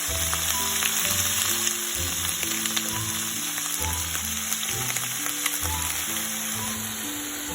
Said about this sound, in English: so we have to fry this eggplant for 5 minutes